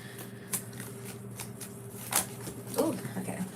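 Tarot and oracle cards are shuffled by hand in several quick, crisp riffling bursts, close and fairly soft, separated by brief pauses.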